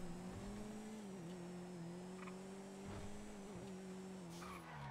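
Car in the video game GTA driven hard, a steady engine drone with long tire-squealing skids and slides, fairly faint and continuous with no talk.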